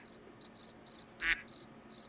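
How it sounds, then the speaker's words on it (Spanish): A Sims game cricket chirps in quick regular pulses, interrupted once by a brief louder croak-like sound before the chirping carries on. "Ahora es un grillo."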